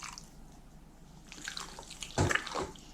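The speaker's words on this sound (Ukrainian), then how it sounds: "Аби фарш був соковитіший, додам ще 50 мл холодної води" A short splash of cold water poured into a bowl of minced meat, preceded by faint trickling and drips, fairly close and brief.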